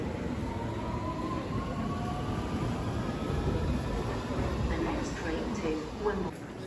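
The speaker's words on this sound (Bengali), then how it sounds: "চলে আসলাম ভিক্টোরিয়া ট্রেন স্টেশন।" Ambience at London's Victoria national rail station: a constant low rumble of trains and station machinery with a steady hiss, with indistinct voices and occasional clanks blended into the background.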